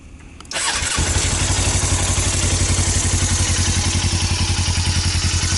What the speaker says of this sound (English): Now, with this bike, you do have to hold the clutch in to start it